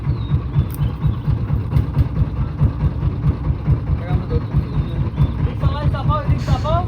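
A trawler's engine runs steadily at a low, throbbing idle on a coastal channel at sunset, its pulsing rumble continuous and close throughout, with a few brief higher chirping sounds over it near the end.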